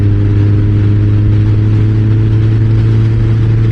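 Kawasaki Ninja ZX-14R sportbike engine fitted with slip-on exhausts, running loud and steady with a deep, throaty drone that holds without pause.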